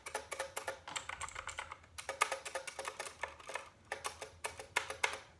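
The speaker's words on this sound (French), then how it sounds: "c'est le bruit de la touche espace" Mechanical RGB keyboard typing, with the space bar clacking among rapid, close, crisp key strikes in irregular bursts and short pauses.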